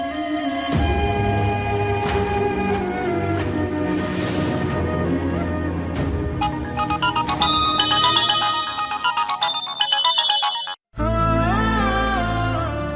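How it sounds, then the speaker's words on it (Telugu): A mobile phone rings with a bright melodic ringtone that repeats for about thirteen seconds without being answered, cutting off briefly near the end before starting again. "ఫోన్ చేస్తే అమ్మ కూడా లిఫ్ట్ చేయట్లేదు."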